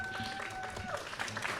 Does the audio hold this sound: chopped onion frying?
no